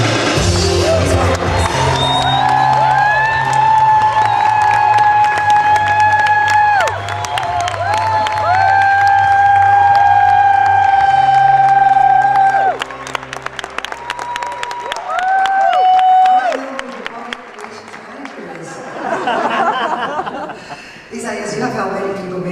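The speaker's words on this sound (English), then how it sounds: "Maybe that's why you get such a great applause." Audience at an award ceremony applauds a corporate executive honoree, a loud ovation with music playing over it, then laughter and renewed clapping while a voice speaks.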